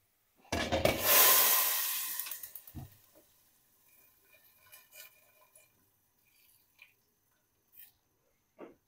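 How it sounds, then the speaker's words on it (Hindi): Hot garlic and dry red chilli tempering hits simmering kadhi for pakora curry: a loud, close hiss of sizzling bursts out, then fades over about two seconds, followed by a few faint clinks and taps. "तो अब मैं फ्लेम को ऑफ कर दूंगी और इस तैयार बघार को डाल दूंगी पकती हुई कड़ी के ऊपर।"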